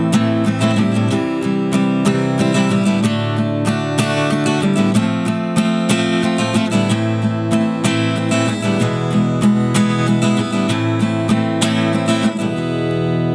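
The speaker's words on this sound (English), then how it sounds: "So the second strumming pattern that you could use would sound like this." A guitar strums a slow, even pattern over chords of House of the Rising Sun in a steady six-beat rhythm, played close and loud with no voice.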